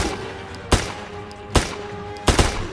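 Gunfire from the Zompiercer zombie shooter video game: three sharp, loud bursts spaced about a second apart, the last a quick double shot, over a quiet background hum.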